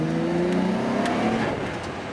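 A Nissan Skyline R32 GT-R is driven on the road, its engine note a steady, moderate drone heard from inside the car, with a slight rise in pitch, briefly and without talking.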